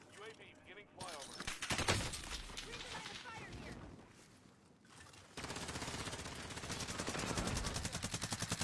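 Rapid bursts of gunfire from a weapon in a multiplayer shooter video game, with quick repeated shots in rattling volleys, heard over excited players talking and reacting nearby.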